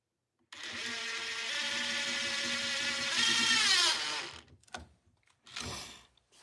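A Milwaukee Gen 2 Surge impact driver runs a fastener in with a loud, steady whirring hum that rises in pitch before cutting off, followed by a few short clicks and a brief second burst.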